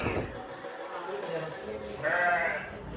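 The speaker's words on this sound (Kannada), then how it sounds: "ಅಲ್ಲಿರೋದು ನಮ್ಮ ಕುರಿ." A sheep near a Bhootharaya shrine at Sigandur bleats twice, close by, once briefly at the start and again with a longer call, while people talk nearby.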